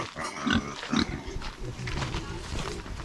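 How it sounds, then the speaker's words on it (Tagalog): Piglets in a rural pen in the Philippines grunt and squeal in short bursts at close range, with a few sharper squeals standing out over a steady farmyard background. "Ito yung mga biik."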